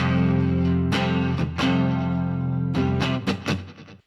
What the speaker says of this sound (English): So just kind of a quick muted strum.